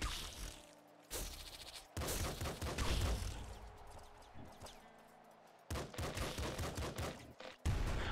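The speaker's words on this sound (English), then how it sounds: "Can't believe I'm still working with a pistol here." Repeated pistol shots in the top-down shooter Nuclear Throne, fired in fast clusters with short gaps, mixed with game effects and sounding fairly quiet overall.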